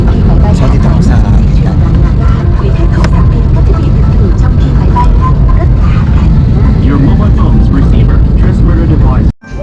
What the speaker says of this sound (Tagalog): nandito na tayo at nakasakay na tayo ng eroplano